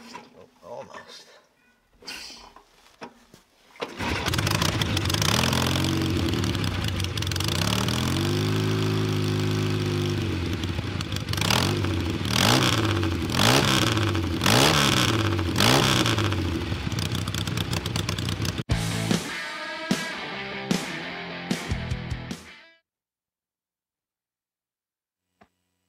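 A custom pre-unit Triumph 650 twin motorcycle built for a show sputters to life after a failed try, then idles and revs in repeated loud blips, close by, before cutting off abruptly into silence.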